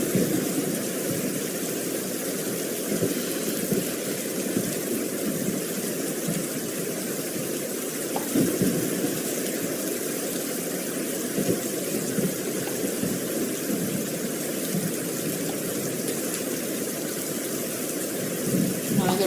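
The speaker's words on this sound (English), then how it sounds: "the reason I have the rain sounds going on this channel" Steady rain falls continuously on a surface, a dense even hiss that stays at a constant moderate level for the whole stretch, sitting in the background with occasional faint bumps and no clear voices.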